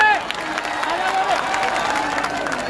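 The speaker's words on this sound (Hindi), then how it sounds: "वो दोनों के लिए जोरदार तालियां लगा" A crowd at an outdoor political corner meeting in Shahada claps and cheers, with shouting voices and whistles over a steady wash of applause.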